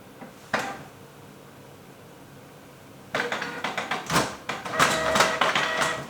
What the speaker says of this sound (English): In goes the paper.